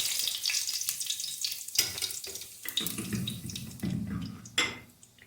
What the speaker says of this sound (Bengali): এবার আমি এতে তেলের মধ্যে দুটো তেজপাতা আর সাদা জিরে ফোড়ন দিচ্ছি।